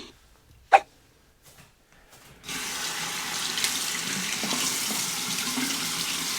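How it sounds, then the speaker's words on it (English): Hot water runs steadily from a tap over a double-edge safety razor during a wet shave, a continuous close splashing rush after a few quiet clicks and a brief knock. "Temper the razor under the hot water."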